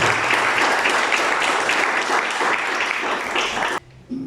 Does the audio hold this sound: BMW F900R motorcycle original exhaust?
no